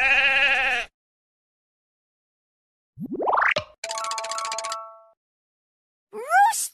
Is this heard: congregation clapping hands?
no